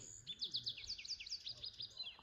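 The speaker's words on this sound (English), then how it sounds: "The birds are singing." Birds sing outdoors in a Sierra forest setting near Sequoia and Kings Canyon, a quick, bright run of repeated chirping notes, fairly close and clear against a quiet background.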